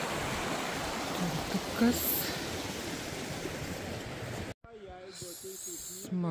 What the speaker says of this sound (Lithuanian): Na va, upė.